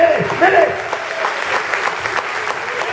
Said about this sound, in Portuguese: Isso merece uma salva de palmas.